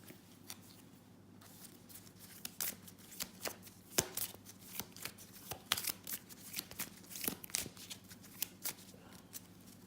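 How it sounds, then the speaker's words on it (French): A deck of game cards being shuffled up close, a run of crisp, rapid riffling bursts and soft flicks in uneven clusters, quiet and alone with no talk. "Je vais poser la caméra un instant et mélanger."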